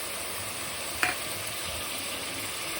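Coconut paste frying in a pan for mutton keema biryani, a faint steady sizzle with one sharp stir or clink partway through.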